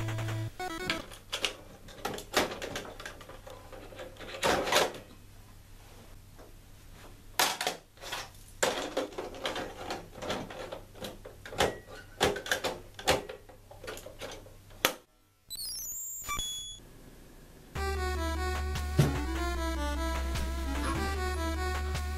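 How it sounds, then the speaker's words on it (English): Game cartridges are pulled from and pushed into a console, giving a run of sharp plastic clicks and clunks at an uneven pace, close and fairly quiet, followed by electronic game music starting up. "I'll just swap out the cartridges."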